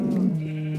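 Sheep bleating in Minecraft, a single wavering game bleat heard clearly and alone, lasting under a second with no talk over it.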